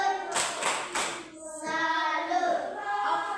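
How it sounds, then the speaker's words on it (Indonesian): Classroom of young pupils doing a rhythmic 'tepuk salut' clap for a classmate, a few sharp unison claps followed by children's chanting voices, close and lively. "tepuk salut untuk Grace"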